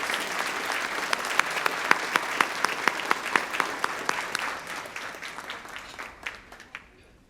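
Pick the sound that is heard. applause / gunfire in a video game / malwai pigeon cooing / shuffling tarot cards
applause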